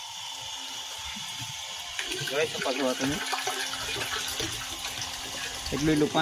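Water from a homemade borewell setup pours into a container with a steady splashing rush, while a person talks over it.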